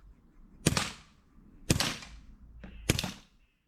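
A CO2-converted Crosman air rifle fires three sharp, close cracks about a second apart, each shot fading quickly, with a faint mechanical click between the second and third.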